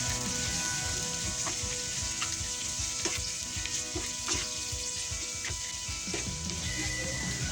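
Pork belly with garlic and onion sizzles in a hot pan, a steady close crackle of frying fat with occasional scrapes and stirring sounds, no voices.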